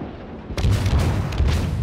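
Naval gunfire from a warship in the World of Warships video game: after a half-second lull, a loud booming salvo bursts in and rolls on as a sustained low rumble for over a second, with no talk over it.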